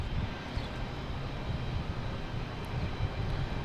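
A JetBlue Airbus A220 jet at Boston Logan gives a steady, broadband engine roar, loud and continuous through the short stretch with no voices.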